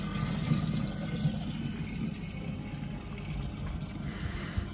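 Water runs steadily as it is drawn from an outdoor tap, a continuous low rushing close by with no voices.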